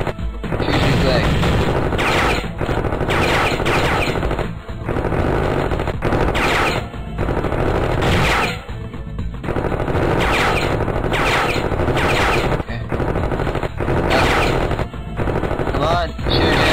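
Rapid bursts of gunfire from a Miniclip shooting video game rattle loudly and almost nonstop, broken by a few short pauses between volleys.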